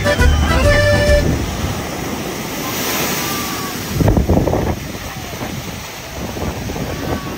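Water rushes and splashes around a theme park river ride, a loud continuous wash with surges partway through, a short tone at the start and faint voices beneath.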